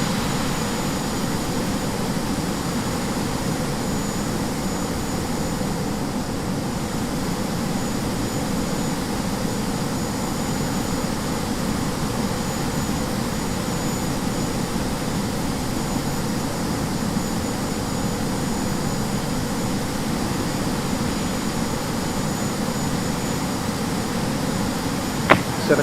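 Jet airliner engines in the X-Plane 11 flight simulator, a Boeing 737-800, making a constant loud whining roar that holds steady for the whole stretch with no talk.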